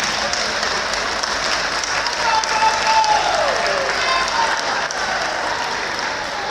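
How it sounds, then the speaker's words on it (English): Sustained applause from a crowd, many hands clapping steadily and fairly loud throughout, with no break. "Let's clap for them"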